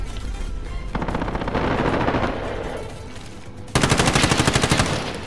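Rapid automatic gunfire fills a Call of Duty Warzone Resurgence quads match. The bursts run dense and loud, and a sharper, harder volley kicks in near the end.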